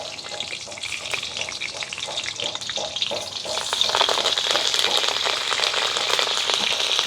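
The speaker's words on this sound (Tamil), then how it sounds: "அம்மா முதல் தாளிக்கிறேன்" Spices crackle and sizzle as they hit hot oil, the spattering swelling louder partway through and continuing steadily.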